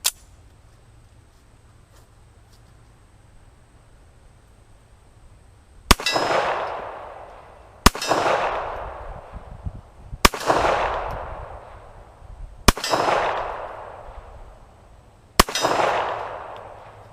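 A .45 ACP handgun fires five well-spaced shots, each followed by a ringing clang of the bullet striking a steel target, the loud reports separated by a couple of seconds of quiet.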